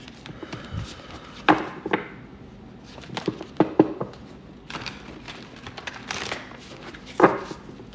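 A deck of cards is shuffled close by during a live spiritual reading: repeated short riffles and soft slaps of cards come in uneven bursts, with no one talking.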